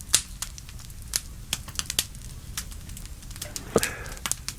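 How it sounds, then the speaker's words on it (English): Wood fire burning in a hearth, with sharp crackles and snaps popping irregularly over a soft hiss, close and fairly quiet, with no voices. "the sound that you hear, that crackling, snapping, hissing sound"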